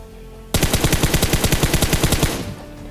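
Automatic gunfire rings out in the mobile shooter game PUBG Mobile, one loud continuous burst of rapid evenly spaced shots lasting about two seconds before cutting off, with no talk over it.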